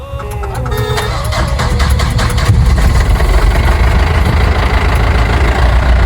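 A car engine idles steadily after finally starting, with a continuous low rumble that runs the whole time. Brief voices are heard over it near the start, alongside some clatter.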